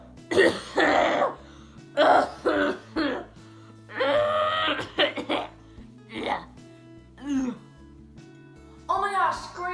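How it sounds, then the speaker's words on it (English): Repeated throat-clearing and coughing bursts from an elderly woman, several loud episodes spread across the stretch with strained, wet breathy texture, some voiced moaning edges, close and indoors. "did you just cough up blood?"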